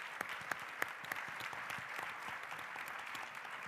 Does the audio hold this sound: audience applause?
yes